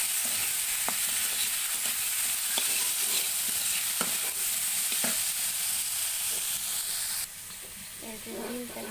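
Potato and egg curry with chili stirred in a hot pan, a steady sizzle under scraping strokes of the spoon every second or so, with a brief change in texture near the end.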